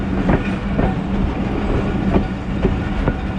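Pakistan Railways Thal Express rolling along the track on its Rawalpindi to Multan run, with a steady rumble and a regular clickety-clack of wheels over rail joints at close range, no voices.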